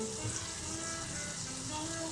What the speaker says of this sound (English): I'm now actually frying smegging cheese